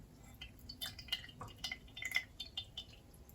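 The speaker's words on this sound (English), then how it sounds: "So I'm just gonna keep squeezing them until I have half a liter." Juice from squeezed tangerines drips in a quick, irregular patter of small, close drops into a container. Faint and quiet, with no talking.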